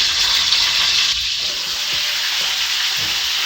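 Potato pieces sizzle and spit in hot oil in a pan while beef kaldereta is being cooked, a loud, steady frying hiss up close with faint pops and a brief dip as they settle.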